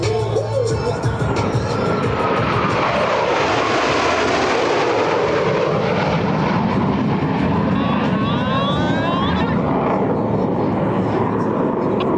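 Blue Angels jets in a double Farvel pass over the NAS Patuxent River air show, a loud continuous jet roar that swells and sweeps across the whole stretch, with faint crowd and announcer voices beneath.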